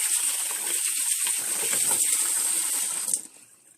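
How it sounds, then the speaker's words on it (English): Hot water poured over rice in a pot while making jollof, a steady gushing splash for about three seconds that then cuts off, leaving faint trickling. "pour it in because the hot water is gonna make the starchy stuff come out pretty quickly"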